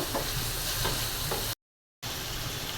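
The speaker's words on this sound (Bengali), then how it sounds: "পেঁয়াজের সাথে চিংড়ি মাছটাও ভেজে নেব" Prawns frying with onions in hot oil, a dense steady sizzle with faint stirring scrapes, close and loud, briefly cut to silence before the sizzle resumes.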